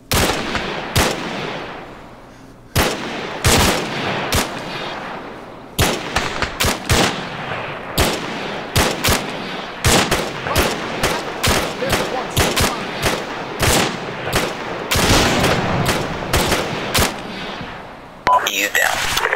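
Arma 3 gameplay gunfire: loud, close bursts of rifle and machine-gun fire crack repeatedly over about twenty seconds, in short volleys with brief pauses between them, while players speak now and then underneath.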